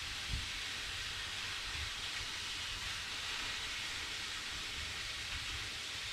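Thai spiced sausages cook in a pan with a steady, soft sizzling hiss that stays even and faint throughout, with no voices.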